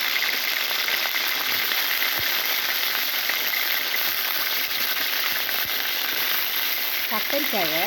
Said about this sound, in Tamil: ஃபஸ்ட்டு எண்ணெயில் பொரிச்சிக்கலாம்